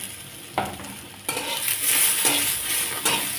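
Onion and tomato being sautéed in a pan for chicken rassa, with a spatula stirring and scraping in bursts over a soft frying hiss.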